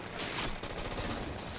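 A beam rifle fires during a Halo 4 multiplayer match, a burst of sharp gunfire across roughly a second and a half with no talk over it.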